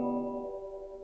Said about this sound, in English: all the strings would be hit all at once